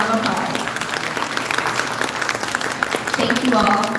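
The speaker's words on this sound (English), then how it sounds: "please give them a round of applause." Audience applause at an Asian American and Pacific Islander Capitol Day event at the Michigan Capitol, steady clapping filling the room for about four seconds.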